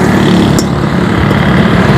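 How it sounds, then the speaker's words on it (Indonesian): A motorcycle engine with its carburetor being tuned runs loud and close in a steady, rough drone, holding an even roar throughout. "Kita setel karbu dulu ya."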